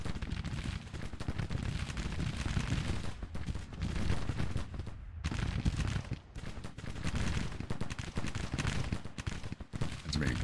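Battle gunfire in Grand Tactician: The Civil War, a continuous roar of massed musket volleys and crackling shots with occasional heavier booms, dense and sustained at a moderate distance.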